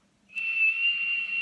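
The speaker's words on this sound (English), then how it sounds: "has now discovered he can whistle as a result" A child whistles a single sustained high note that starts abruptly and holds steady, clear and close, with no talk.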